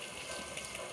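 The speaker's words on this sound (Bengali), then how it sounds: "মাছগুলো ভালো করে ধুয়ে নিয়েছি" Running water from a tap pours steadily over prawns being rinsed, a soft continuous gushing splash heard close and alone.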